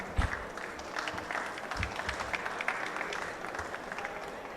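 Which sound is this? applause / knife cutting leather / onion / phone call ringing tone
applause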